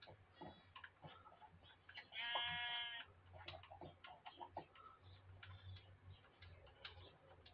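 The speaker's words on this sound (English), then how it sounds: "We have a sheep farm now." Minecraft sheep bleat in a farm pen, a short burst of harmonic bleating standing out in the middle over steady game ambience and clicking tick-like sounds, with no talk.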